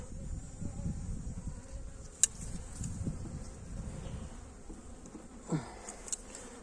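Honeybees hum at low level inside a hive opened in January during a winter check, a soft continuous drone close to the microphone, broken by a couple of faint clicks and a brief rising whir near the end.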